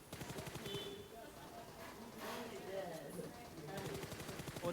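Rapid bursts of gunfire ring out during a PUBG battle royale match, with repeated shots at the start and again near the end, and steady game noise in between.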